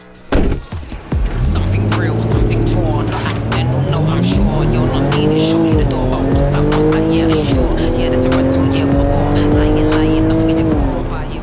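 A Jaguar F-Pace S SUV pulls away hard and accelerates, its engine note climbing loud and close through several gear changes, with a brief tire squeal at the launch.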